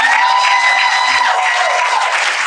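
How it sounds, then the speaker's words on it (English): An audience at a talk applauds and cheers, a dense continuous roar of claps and voices at close range with no pauses. "please give another round of applause for B.Simone"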